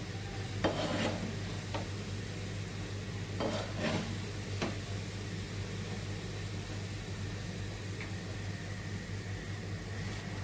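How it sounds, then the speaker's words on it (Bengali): Food fries in very hot oil until it turns reddish, giving a steady, even hiss throughout. A few brief stirring scrapes come early on. "এটা দিয়ে খুব গরম একটু লাল লাল করে ভেজে নেবো"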